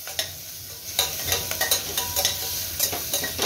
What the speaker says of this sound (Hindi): अब इन वेजीज को, मिक्स वेजीज को भूनते 2 मिनट हो गया है।